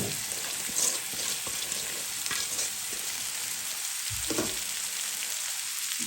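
Potatoes for a Bengali aloo bhaji frying in a pan give a steady, close sizzle with crackling spatter and occasional stirring scrapes, and no one speaks.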